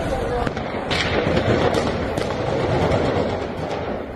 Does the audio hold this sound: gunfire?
yes